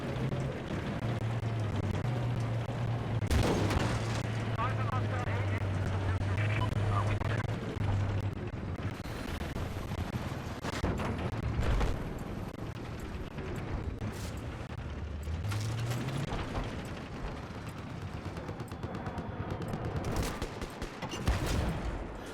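Battlefield 4 gameplay is full of dense, continuous machine gun fire and explosions forming a loud, busy battle roar, with a voice talking over it throughout.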